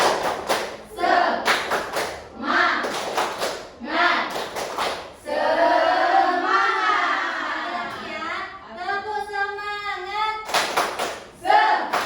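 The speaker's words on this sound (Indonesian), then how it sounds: "Tepuk semangat" Indonesian schoolchildren in a classroom do a rhythmic spirit clap, with bursts of sharp, patterned clapping in groups, and chanted voices in between.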